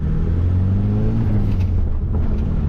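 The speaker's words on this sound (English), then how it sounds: "it wants to make boost, hard throttle, low RPM" A 1990 Plymouth Sundance turbo engine, fitted with a small turbo of about 40 mm, is pulled at hard throttle from low RPM. It gives a loud, steady, close-up droning rumble with no talking.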